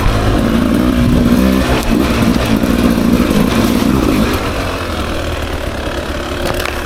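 Beta 300 RR two-stroke dirt bike ridden along single track, engine buzzing and revving close by, then easing to a lower, quieter burble in the last few seconds.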